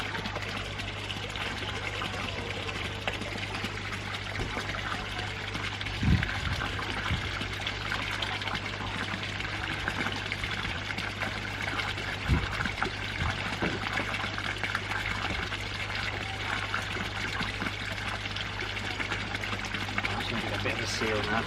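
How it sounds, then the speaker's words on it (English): Pond water pours and trickles steadily into a bottle close by under a constant low hum, with a few brief knocks and faint voices in the background. "Fill that bottle with pond water."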